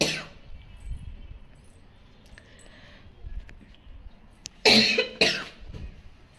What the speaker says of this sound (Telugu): బాగా జలుబు చేసేసి దగ్గు చేస్తుంది, అందువల్లనే మీకు కొంచెం డిస్టర్బెన్స్ అనమాట